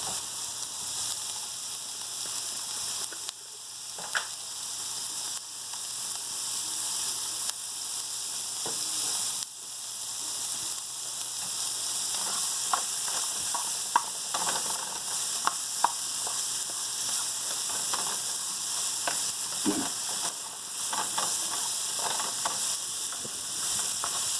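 Sliced zucchini with garlic, salt and paprika browns in olive oil in a pan, sizzling with a steady close hiss for a long stretch, dotted with scattered pops and occasional stirring clinks.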